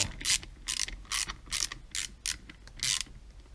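A ratchet tightens small bolts on a Honda QA50 engine during bottom-end assembly, a series of quick, close clicking bursts separated by short pauses in an uneven rhythm.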